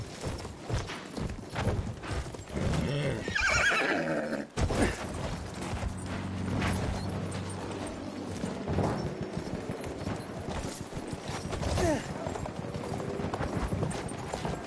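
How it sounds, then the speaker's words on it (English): A horse gallops in the video game Battlefield 1, its hooves clip-clopping in a fast, steady rhythm with creaking tack and a brief neigh, loud and close amid battle noise. "I'll go cover you with my horse"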